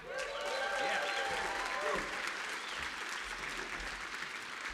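A concert audience at a traditional and global roots show applauds steadily, a dense wash of clapping from many hands that stays loud and even for the whole stretch, with no voices standing out.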